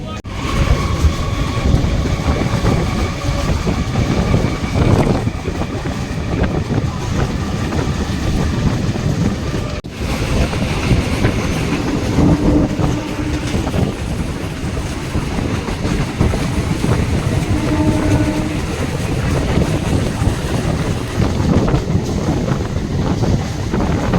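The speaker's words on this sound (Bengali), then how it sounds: "দু নম্বর প্ল্যাটফর্মে তার নির্দিষ্ট সময় এক মিনিটের জন্য দাঁড়ানোর পরে আবার ট্রেন ছেড়ে দিল" A local train on the Basirhat–Sealdah line rumbles along steadily and loudly after departing, wheels clattering on the track with wind buffeting throughout; no voices.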